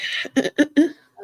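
Someone coughs during a casual chat among friends: a short cluster of three or four quick, close coughs, followed by a faint bit of voice.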